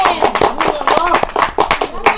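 Children in a seventh-grade classroom clap in a quick, irregular patter of close hand claps, with kids' voices talking and calling out over the clapping.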